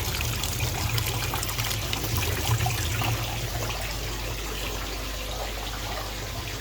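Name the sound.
water trickling into a pond from a DIY trickle tower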